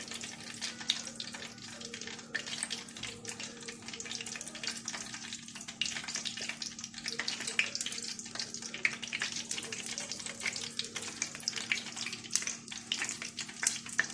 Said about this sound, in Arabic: هنقلي بقى القطايف بتاعتنا بعد ما قفلناها كلها